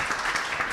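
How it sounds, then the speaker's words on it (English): Audience applause at a drone industry event, a brief steady wash of clapping with no voices over it. "Let's have a big round of applause for everybody"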